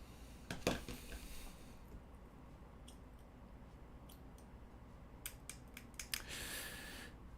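A plastic miniature part for a Necromunda Chaos bounty hunter kitbash is trimmed with a hobby cutter, giving a few sharp isolated snips and clicks spaced apart in a quiet room, with a brief scraping rustle near the end.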